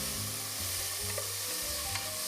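Onions and vegetables sautéing in a pan for a gnocchi ragù: a steady, close sizzle with a couple of soft stirring clicks, brief and continuous, with no talking.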